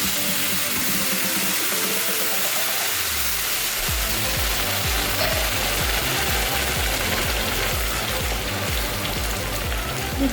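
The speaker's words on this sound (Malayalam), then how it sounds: "ഇനി നമുക്ക് തിളപ്പിച്ച വെള്ളമാണ് നമുക്ക് ഒഴിക്കാം." Boiling water poured onto roasted rice in a hot pan, a loud continuous hiss and crackling sizzle with bubbling that steadily fills the clip.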